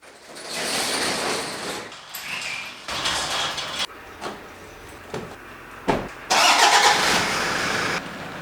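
A car engine runs as the vehicle is driven into a house ahead of a coolant replacement, with uneven bursts of motor noise, mechanical clunks and a door-like slide, close by with no talking.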